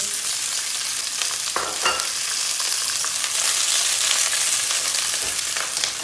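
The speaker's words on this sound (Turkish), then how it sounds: "Tavayı soğutmadan Hemen biberlerini atıyor." Peppers frying in a hot pan with a little added oil, a loud continuous close-up sizzle and crackle with occasional stirring scrapes, no voices.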